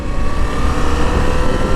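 A KTM 790 Adventure motorcycle with a 21-inch front tire, ridden in its safe riding mode, its engine droning loud and close with steady wind rush and no talking.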